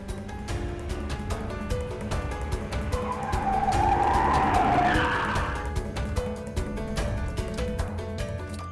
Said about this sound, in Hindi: ईशान, आराम से चलाओ यार